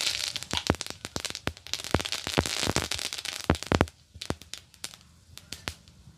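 Dried red chillies and mustard seeds spluttering in hot oil for a tamarind-soured prawn curry, throwing out a fast run of sharp crackling pops that thin out to scattered bursts near the end.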